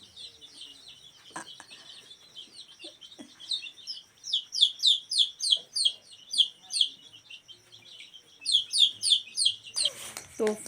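Small birds chirp in quick bursts of high, rapid tweets, fairly close and repeated in clusters, as they are called over to be fed grain; faint talk and background sounds sit underneath.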